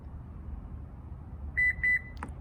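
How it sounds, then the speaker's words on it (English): A 2020 Lexus RX power back door gives height memory confirmation beeps, two short electronic tones in quick succession over low background hum, followed by a brief click. "Now, we had our 4 beeps, 2 additional beeps, it's all clear."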